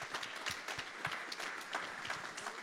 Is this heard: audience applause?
yes